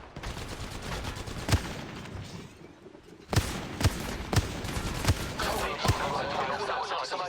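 Gunfire in Apex Legends Mobile: sharp single shots and short bursts crack out at irregular intervals. A voice speaks beneath them.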